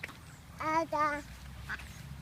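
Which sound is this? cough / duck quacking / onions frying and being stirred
duck quacking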